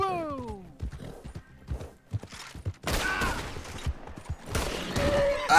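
Hooves clatter in quick irregular beats as a horse gallops in the Red Dead Redemption roleplay game, a whinny sounding at the start and gunfire bursting in later amid the action.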